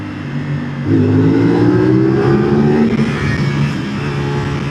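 A 450 SR motorcycle engine, still in its break-in period, hums steadily while being ridden, then its pitch climbs as the bike accelerates before settling back into a sustained drone.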